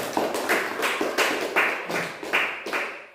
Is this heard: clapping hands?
yes